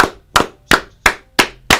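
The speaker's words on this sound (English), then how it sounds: "claps for the chat." Six sharp hand claps in a steady rhythm, each a loud, close, crisp slap with a short decay, with no talking.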